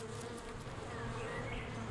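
A broad-bordered bee hawk-moth hovers in flight, giving a continuous, soft, bee-like buzzing hum that holds steady throughout with no other sounds.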